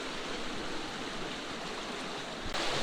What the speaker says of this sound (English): the river is very fast flowing